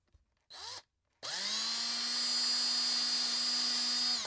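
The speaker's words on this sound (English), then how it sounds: "And we'll try with this drill bit here." A power drill fitted with a drill bit whirs loudly and steadily after a brief spin-up burst, a sustained close-range whine with no speech.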